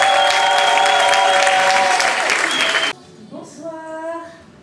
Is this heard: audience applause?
yes